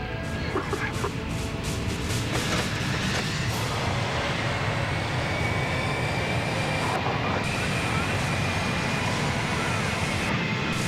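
Jet aircraft engines roar at maximum takeoff power in a steady, loud, broadband rush that holds throughout, with faint voices mixed underneath.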